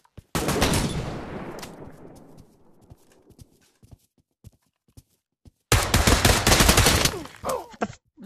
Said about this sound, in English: He just shot me in the back of the head.